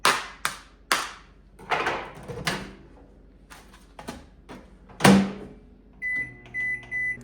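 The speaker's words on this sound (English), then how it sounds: "We got our 1100 watt microwave." Several sharp clacks and thuds like a door and buttons being handled, then an 1100-watt microwave oven running on a Jackery 5000 Plus portable power station starts with a steady hum and repeated beeps.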